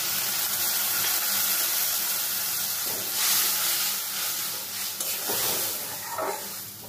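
Mustard and poppy seed paste with spices sizzles steadily in a pan for a kakrol and potato curry, a continuous close hiss with small shifts as the mixture is stirred.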